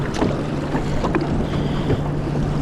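Choppy sea water surges and slaps around a fishing kayak on open, swelly water, with steady wind buffeting the microphone throughout.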